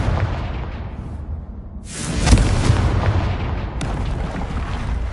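Confringo spell explosion in Hogwarts Legacy, a sudden booming burst that swells out of a quieter rumble and then rings on with a sustained roar and crackle, loud and close.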